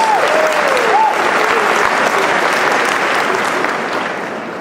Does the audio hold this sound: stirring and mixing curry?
no